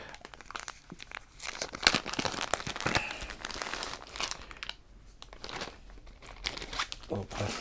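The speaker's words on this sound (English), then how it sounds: "Little plastic bag aside." Someone crinkles and crumples a small plastic bag up close and sets it aside, producing irregular rustling bursts and crackles while unpacking a Targhee wool fiber sample.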